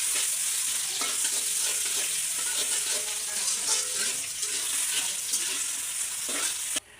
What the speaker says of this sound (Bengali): এখন হচ্ছে যে আলু বেগুনের ঘাটিটা রান্না করার জন্য পেঁয়াজ ভেজে নিচ্ছি।